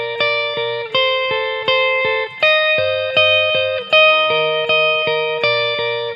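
Electric guitar plays a connected melodic phrase with smooth hand-position shifts, each note sustained and washed in reverb, with a slight distorted, chorus-tinged tone; clear and up close, no talking.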